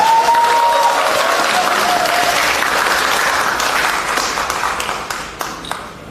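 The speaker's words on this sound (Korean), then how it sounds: "괜찮으시면 중간에 박수 쳐주셔도 좋아요." Audience applause fills the hall at the launch ceremony of a new political party's founding preparatory committee, loud and sustained before tapering into a few last claps.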